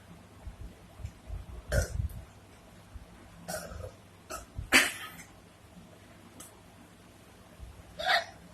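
After downing half a litre of Sprite, a person lets out a series of irregular burps and hiccups, several loud bursts separated by quieter breathing, close up.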